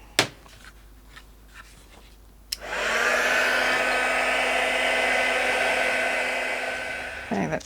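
A hair dryer blowing on wet paint on a collage starts with a click and runs as a steady, loud, close whoosh and whine for several seconds, after a few light taps and handling noises.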